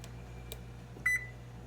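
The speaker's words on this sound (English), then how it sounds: "I'm gonna set my timer" Kitchen oven timer being set, a single short electronic beep over a quiet room hum, close and fairly clear, preceded by faint handling clicks.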